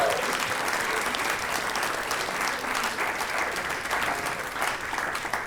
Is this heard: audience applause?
yes